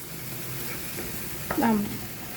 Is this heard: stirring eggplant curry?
yes